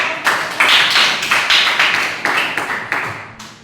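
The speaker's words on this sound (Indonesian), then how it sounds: "Oke, tepuk tangan dulu untuk" A classroom of students clapping for a group's presentation: a short run of about a dozen sharp, evenly spaced claps, loud and close, with no talk.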